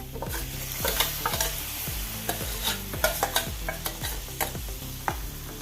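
A spoon stirs cooked lentils into a sizzling bottle gourd curry in a pan, giving regular scraping strokes about twice a second over a steady frying hiss, close up with no voices.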